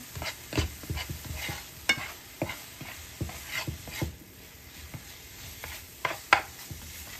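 Jackfruit and sugar cook in a wok over medium heat, with a spatula scraping and tapping in uneven strokes over a soft, low sizzle close by.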